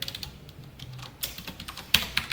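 Keys on a computer keyboard are tapped in short irregular bursts while Java code is typed, soft nearby clicks with a sharper keystroke toward the end.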